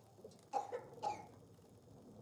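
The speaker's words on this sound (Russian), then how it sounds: "Вы что тут кашляете?" Coughing in the video game Dying Light 2: two short, hoarse coughs close together early on, followed by another cough a moment later, set against a quiet background with a sharp noise at the end.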